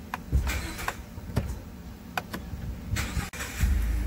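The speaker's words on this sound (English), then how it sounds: "All right, turn the truck on." A truck engine with a suspected bad O2 sensor, coil or spark plug cranks over and catches close by, settling into a rough idle with a few sharp clicks and knocks.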